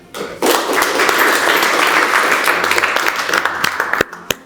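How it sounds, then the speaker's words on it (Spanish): An audience at an oratory workshop breaks into strong applause for a speaker, a burst of dense clapping that swells quickly, holds for a few seconds, then thins to a handful of scattered, sharper claps. "Un fuerte aplauso."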